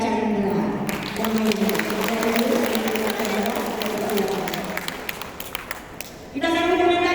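An audience at an Islamic dakwah gathering claps to welcome a female preacher (ustazah) to the stage, with sustained applause running under a continuous amplified voice and music for several seconds.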